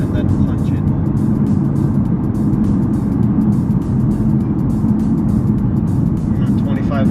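A BMW F80 M3 running on E85 fuel accelerates hard from 2,500 RPM, its engine a loud, steady, dense roar that holds throughout, with a voice talking over it.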